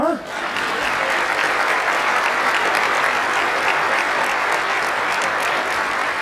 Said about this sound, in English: Let's clap, huh?